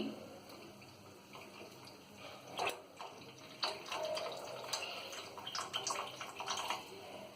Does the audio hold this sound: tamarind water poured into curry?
yes